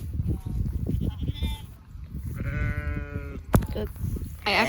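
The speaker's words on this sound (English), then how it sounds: "Here, sheep, sheepies." Sheep bleat in a farm field, a couple of short nasal calls rising over close, overlapping family chatter and handling noise.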